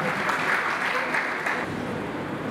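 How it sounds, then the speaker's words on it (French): An audience at a one-year anniversary celebration for Weli-Media claps for a speaker being welcomed to the stage, producing a short burst of steady, moderately loud applause with no talking. "Madame Fadiga Fatou Diakhaté, qu'on applaudit très très fort s'il vous plaît."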